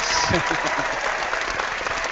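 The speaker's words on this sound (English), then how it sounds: "Give them a round of applause." A canned applause sound effect from the Hangouts app, steady and fairly even clapping over a brief stretch, with a voice speaking faintly under it at the start.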